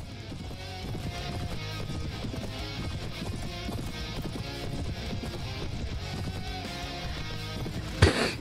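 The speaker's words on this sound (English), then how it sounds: "Horses just running over our guys again and again." Many horses gallop in a continuous drumming clatter over a low music bed, with occasional whinnies and a sharp impact near the end, during a cavalry charge in the video game Prophesy of Pendor.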